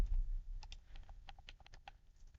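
Fingers type on a computer keyboard during a coding session, a quick irregular run of light key clicks close by with no talk.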